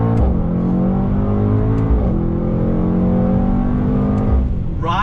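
A 2019 Mercedes-AMG GT 63 S sedan roars under hard acceleration with quick paddle downshifts, its engine note loud and close, rising and dropping in pitch with brief blips between gears.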